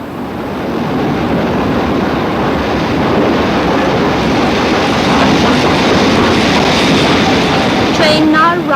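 A train rumbles into platform 14 at York station, a loud continuous roar of wheels and motion, with squealing brakes near the end and a voice faintly underneath.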